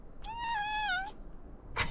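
Sashimi, a pet cat, gives one clear drawn-out meow up close, followed by a short rustle.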